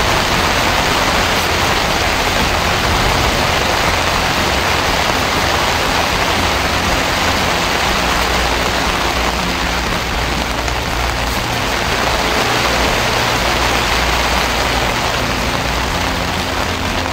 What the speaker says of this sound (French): Ah là là, comment il pleut, hein.